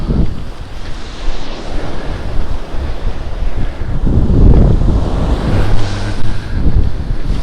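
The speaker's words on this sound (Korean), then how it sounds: "거품 이는 파도" Foamy ocean waves break and wash on the shore, a loud, rolling surge that builds and recedes, heavily buffeted by wind noise on the microphone.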